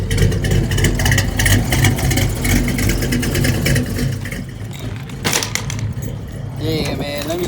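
A carbureted car engine idles and revs steadily on a test drive, a loud, continuous mid-range rumble with a brief surge near the end and faint voices in the background.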